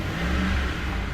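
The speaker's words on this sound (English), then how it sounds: "let's see if it's got any throttle. Oh yeah, she's got some throttle." A Ford F-150 engine revs under the hood with a freshly replaced throttle position sensor, giving a steady, close, loud mid-pitched roar that holds for just over a second with no voices.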